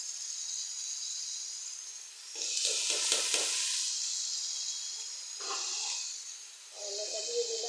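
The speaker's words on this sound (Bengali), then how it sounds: "দেখেন গাইস, করলা ভাজিটা দিয়ে দিলাম।" Fried bitter gourd tossed into a hot pan sets off loud bursts of hissing sizzle, the first with a rattle of pieces landing, then two further surges as the frying settles and flares again.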